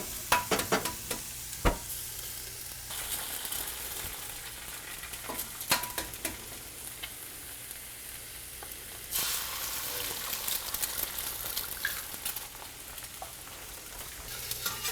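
An egg sizzles in a pan alongside vegetables, giving a steady crackling fry throughout with occasional utensil clicks and scrapes nearby.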